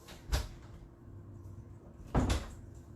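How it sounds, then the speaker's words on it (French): A house door is opened to let a dog out, giving two sharp knocking thuds about two seconds apart, near and moderately loud against a quiet room with a faint low hum between them. "je vais juste ouvrir la porte à la chienne"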